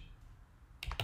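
A few quick keystrokes on a computer keyboard in a quiet room, two soft clicks near the end after a moment of low hum.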